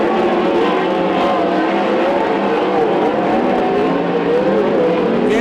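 Western Sprint Tour sprint race cars lapping Coos Bay Speedway in a heat race, a loud continuous roar of several engines with rising and falling pitch as the pack circles the oval, steady throughout.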